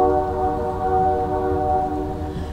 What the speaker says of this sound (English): now there's a train going in the back